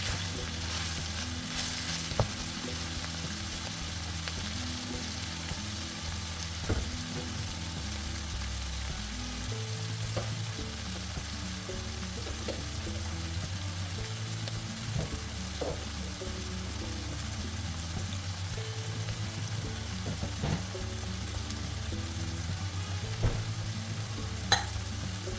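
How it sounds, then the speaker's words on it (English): Red capsicum and other vegetables fry in a pan with a steady, close sizzle and occasional stirring scrapes and clicks, with no talking. "Just adding in there too, and I'm going to cook until all the veggies are nice and soft."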